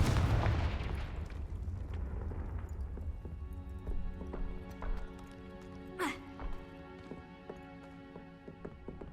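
A Confringo fire spell in Hogwarts Legacy bursts with a heavy, loud blast at the start, then fades into a lingering rumble with scattered clanks, thuds and a brief whooshing streak, and no talk.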